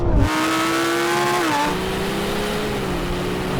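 Supercars including a Ferrari 296 GTB, McLaren 750S, Lamborghini Huracán Performante and Porsche 911 Turbo launch at a race start, engines revving hard together in a loud, rising roar that shifts up and continues as a dense mechanical drone, with no talking.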